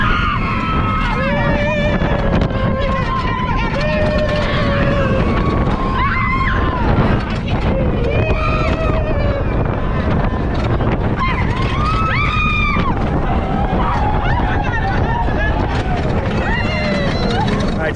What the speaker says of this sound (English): Just got off Manta. So much fun on that. That's a good roller coaster.